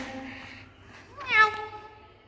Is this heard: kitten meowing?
yes